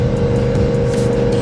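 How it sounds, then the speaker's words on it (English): A Porsche Panamera GTS V8 runs with a steady, deep grunting rumble. The sound is close and loud and holds continuously through the short moment without pause. "that V8, oh, you just hear it grunting and it just makes such a great sound"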